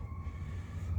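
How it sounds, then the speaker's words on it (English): A fire department siren from a firehouse about two minutes away wails faintly in the distance as a steady, sustained tone over a low outdoor hum. "I do apologize for the siren noise."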